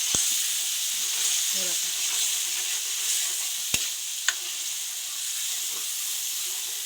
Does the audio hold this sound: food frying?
yes